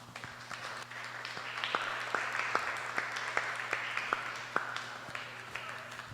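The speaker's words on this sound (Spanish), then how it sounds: "Denle un aplauso al Señor." A congregation at a Spanish-language church service applauds with steady, sustained clapping for several seconds, dense and even, with a low hum beneath.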